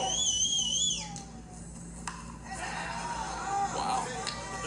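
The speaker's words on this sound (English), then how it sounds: "Lots of chatter, lots of whistling down on that field." Players chattering and whistling on the field at a Little League World Series intermediate game between Mexico and Australia, with shrill sustained whistles over a busy bed of distant voices and crowd noise.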